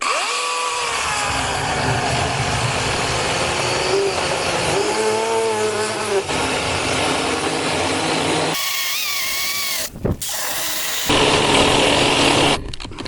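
Einhell Professional GP-PS 18/20 Li BL cordless mini chainsaw cutting an oak log thicker than its bar, a loud steady close whine that rises into harsher cutting bursts near the end.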